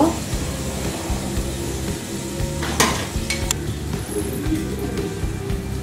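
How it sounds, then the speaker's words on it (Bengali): Onions sizzle and crackle in hot oil in a pot for traditional Old Dhaka Haji biryani as half are scooped out, with steady frying hiss, stirring scrapes and a sharp metallic clink partway through. "পেঁয়াজটা বেরেস্তা করা হয়ে গেছে, এখন আমি অর্ধেক পেঁয়াজ এখান থেকে তুলে নিব"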